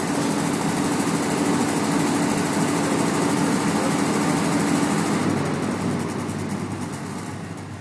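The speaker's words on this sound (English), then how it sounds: "The generator has now shut down" A Pramac GSL65D diesel standby generator runs at a loud, steady drone, then winds down and fades as it shuts off at the end, with no talking.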